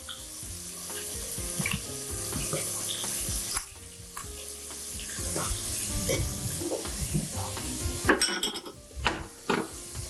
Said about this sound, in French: Et je vais bien mélanger ma dolça.